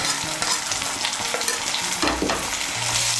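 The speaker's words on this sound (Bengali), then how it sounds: "আদা বাটা, রসুন বাটার কাঁচা লঙ্কা বাটাটাকে তেলের সঙ্গে মিশিয়ে নিয়ে একটু ভেজে নেব।" Ginger, garlic and green chili paste being stirred and fried in hot oil, a continuous bright sizzle with scraping stir strokes, close up and without talk.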